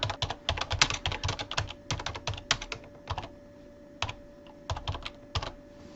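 Values are typed on a computer keyboard in quick bursts of close key clicks separated by short pauses, with a steady faint hum beneath.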